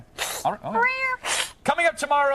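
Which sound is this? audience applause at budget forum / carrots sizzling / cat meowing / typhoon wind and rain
cat meowing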